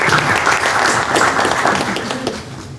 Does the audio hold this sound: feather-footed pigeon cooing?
no